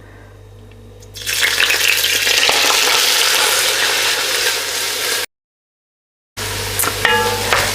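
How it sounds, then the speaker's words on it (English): Onions dropped into hot oil for a lamb meatball curry, bursting into a loud, steady broadband sizzle that holds for several seconds, cuts out briefly, then resumes with small clinks. "I'm going to add my onions straight in, and we're going to cook these until they're nice and golden brown in colour"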